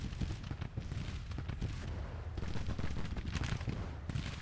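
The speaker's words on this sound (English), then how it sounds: "firing into the enemy" Musket volleys rattle without pause across a Civil War battlefield in Grand Tactician, with dense overlapping shots and crackling fire forming a steady, loud din of massed gunfire.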